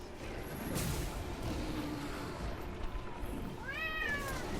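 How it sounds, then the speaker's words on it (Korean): A cat meows in the video game Monster Hunter World, a short rising cry near the end over a steady layer of game ambience and background noise. "고양이도 울죠"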